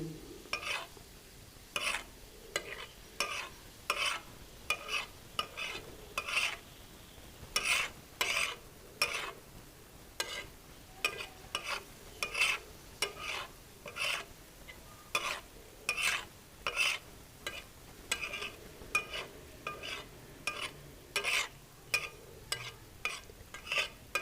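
A spatula stirs spiced liver masala on a hot tawa, making steady rhythmic scrapes about once a second, each stroke a sharp, close rasp over a faint sizzle.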